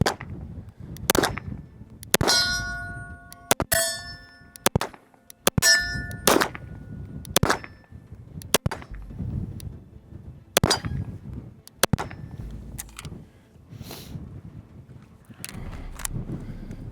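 A SIG Sauer P226 X-Five Legion pistol fires a series of sharp shots outdoors, each followed by the ringing clang of bullets striking steel targets, spaced irregularly at about one to two per second.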